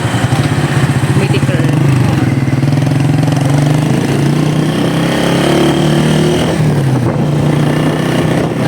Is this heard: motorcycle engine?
yes